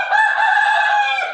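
A single loud white rooster crow on a farm, close by, rising and holding for over a second before trailing off.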